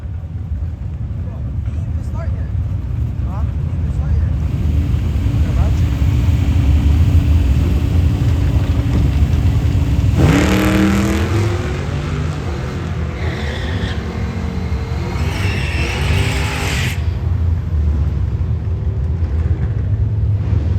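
Drag race between a 1994 Mustang GT convertible and a Maverick, engines roaring loudly under a steady crowd and track din, with a sharp rising surge as the cars launch midway and an announcer talking over it.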